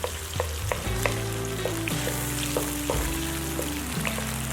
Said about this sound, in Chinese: 撒上几片大蒜，将它们炒匀了